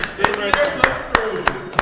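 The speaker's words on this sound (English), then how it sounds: "Give this man a fucking round of applause," A few people in a podcast studio clap in sparse, separate claps, roughly one every third of a second, under and between talking voices.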